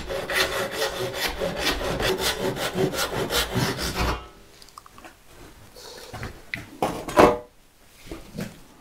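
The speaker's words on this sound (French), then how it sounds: "ça c'est une scie rip cut et pour scier en travers du fil c'est coton" Rip saw strokes rasp rapidly and steadily across the wood grain for about four seconds, then stop, followed by quieter scattered knocks and scrapes nearby.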